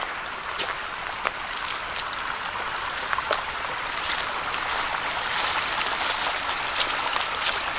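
Small waterfalls in the Pennsylvania outdoors, a steady nearby rush and splash of flowing water with faint scattered drips, no talking.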